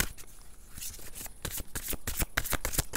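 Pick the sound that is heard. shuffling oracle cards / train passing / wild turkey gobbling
shuffling oracle cards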